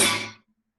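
A single sharp slap on a guitar string in a flamenco-to-funk playing style, a loud percussive snap with a bright attack that decays quickly over about half a second, heard alone and up close.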